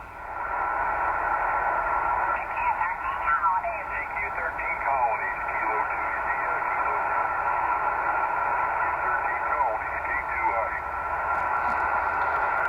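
Amateur radio receiver tuned to upper sideband, a band-limited hissy stream with garbled sideband voices drifting in and out, steady and fairly loud throughout.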